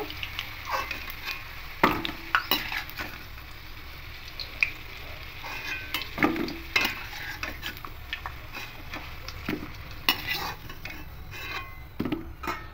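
Potatoes fry in hot oil with a constant low sizzle, while a utensil stirs and scrapes the pan in irregular clinks and knocks, close and clear with no talking.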